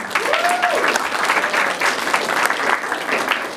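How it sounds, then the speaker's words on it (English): A crowd at a talk by music producers claps in warm, continuous applause, a close, full wash of many hands that holds steady from start to finish. "So another round of applause."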